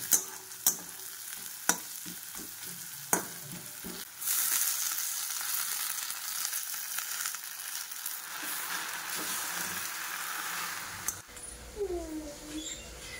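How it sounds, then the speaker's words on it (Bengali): Jute leaves (pat shak) frying in a pan: a few sharp clinks of stirring at first, then a steady soft sizzle that runs under light clatter, ending with a different, brighter background. "পাট শাক ভাজা করব।"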